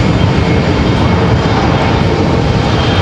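An Embraer ERJ regional jet at Raleigh-Durham International Airport gives off a loud, continuous broadband roar that holds steady and close throughout.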